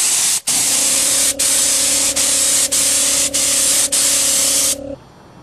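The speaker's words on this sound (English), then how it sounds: "Now this I'm spraying with a higher pressure than I normally would paint with." A spray gun at high pressure lays clear coat on go-kart parts: a loud, hissing blast broken by several short trigger pauses, ending abruptly with a quieter tail.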